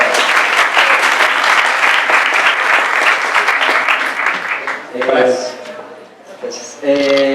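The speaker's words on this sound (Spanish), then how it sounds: "Aplauso" Applause from an audience at a science and art talk on color, loud and dense for about five seconds, then thinning into scattered claps as a voice begins speaking.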